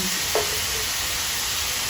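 Onions frying in a pan with salt added for an egg curry, giving a steady soft sizzle throughout with a brief stir near the start.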